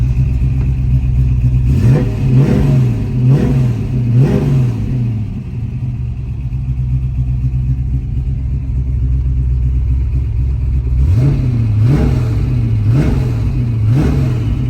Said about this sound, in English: Exhaust on this car sounds amazing.